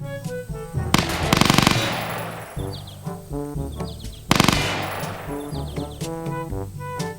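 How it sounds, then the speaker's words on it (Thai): Gunfire at a shooting practice range in a Thai military roleplay video game: a rapid automatic burst, then a second sharp burst a few seconds later, each loud against a steady tonal game background with no speech. "นี่นะครับเนี่ยก็มาซ้อม การยิงปืนนะครับ"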